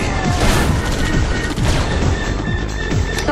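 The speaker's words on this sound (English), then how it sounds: "Airstrike initiated." Dense, continuous barrage of explosions and booming blasts from airstrikes in Command & Conquer, a multiplayer match on the Pacific Heights map, rumbling loudly and overlapping throughout with crackling bursts and no pauses.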